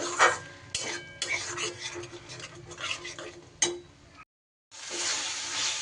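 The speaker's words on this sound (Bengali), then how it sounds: "দইটা দিয়ে খুব ভালো করে মিশিয়ে নেব মশলার সাথে" Whipped sour yogurt, about 50 grams, is stirred into spices in a pan for an okra curry, making repeated scraping and clinking strokes with a brief silent gap near the end.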